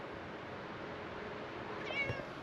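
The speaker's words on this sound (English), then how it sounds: "Missy, look at this kitty." A pet cat named Missy meows once near the end, a short rising call over a steady background hiss with no one talking.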